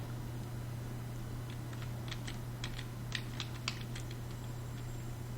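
Keys clatter on a computer keyboard during 3D texture painting work, a scattered run of light, close clicks over a steady low electrical hum.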